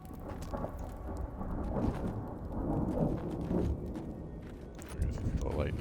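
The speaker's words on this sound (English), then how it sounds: "Dang, the volcano sounds super cool." Volcano thunder from the game Avowed, a rolling low rumble that swells and recedes with rain-like crackle, under a person talking.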